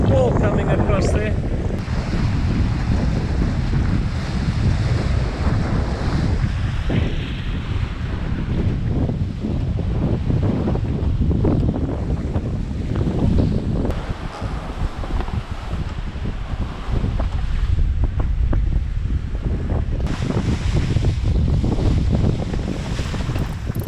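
Wind and surf of a squall at sea, heard from aboard a sailboat heading along the coast toward Portland Roads, with dense roaring gusts buffeting the microphone and continuous wave wash throughout.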